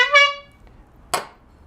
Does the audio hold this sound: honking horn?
yes